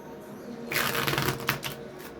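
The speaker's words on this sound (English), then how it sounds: "Alright, 2 more shuffles, they said." A tarot deck being shuffled close up, a rapid flurry of riffling and flicking that starts after a quiet moment and continues.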